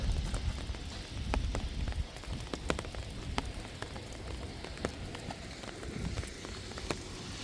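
Steady rain falling at a ranch, dense patter on surfaces with scattered sharper drips standing out, moderately quiet and continuous, no voices.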